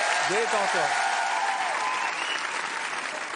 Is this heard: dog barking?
no